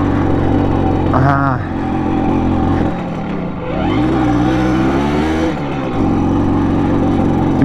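A freshly finished Simson moped engine sputters and revs unevenly on its first start attempt, the pitch rising and falling as it struggles to hold revs, loud and close with brief dips.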